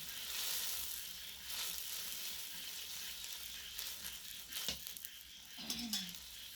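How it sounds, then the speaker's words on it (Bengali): Water poured into spice paste frying in a pan for an egg curry, a broad hiss and sizzle that settles down, with a few clinks and a stirring scrape near the end, fairly faint. "এবারে পরিমাণ মতো জল দিয়ে দিলাম"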